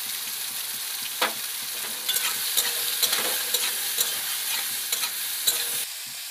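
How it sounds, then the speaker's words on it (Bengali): Cut eggplant pieces fry in hot oil with salt, turmeric and chili powder, a steady sizzle broken by several sharp clinks and scrapes of a spatula stirring the pan, close and alone without talk. "তেলটা ভালোভাবে গরম হয়ে গেলে কেটে রাখা বেগুনগুলো দিয়ে দেব।"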